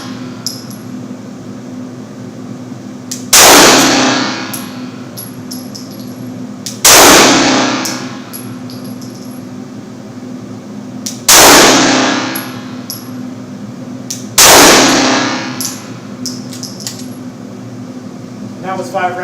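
A 9mm handgun fires shots at targets on a range, four sharp, loud cracks spaced a few seconds apart, each followed by a short ringing decay over a steady background hum.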